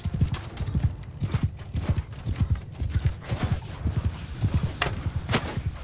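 Horses in the Mount & Blade 2: Bannerlord video game gallop in a battle charge, with rapid, dense clip-clop hoofbeats rolling steadily throughout and a faint whinny mixed in.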